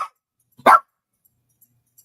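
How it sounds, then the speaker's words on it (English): A small dog gives a single sharp bark close by, surrounded by near silence. "my little dog wants to bark right now"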